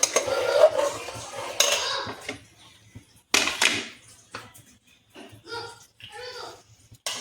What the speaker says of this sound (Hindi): डाल के इसको मिक्स कर देंगे।